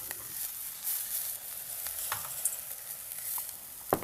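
Vegetables sizzle and fry in an Elo pan after a splash of water, a steady quiet hiss with a few soft clinks and stirring sounds, no talking.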